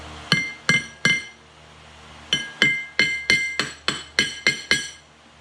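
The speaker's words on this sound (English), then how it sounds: "we're going to see if I got lucky enough and I can just briefly beat this hub off" Hammer blows on a steel wheel hub of a John Deere 322 lawn tractor ring out sharply, three strikes, a pause, then a steady run of about nine more, loud and close, with no talk.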